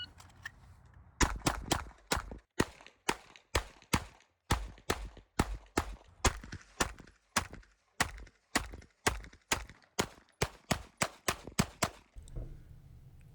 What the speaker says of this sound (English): let's take a look at Viking shooting this ammo